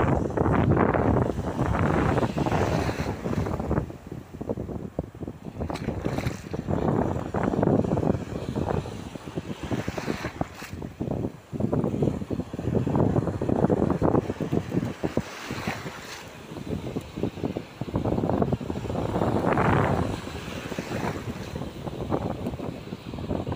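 Strong wind blows steadily by the sea, a continuous loud roar of gusts buffeting the microphone with surf and water noise underneath, lasting the whole time and with no one speaking.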